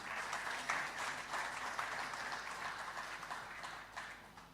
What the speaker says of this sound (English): Please join me in clapping and thanking our people in the region.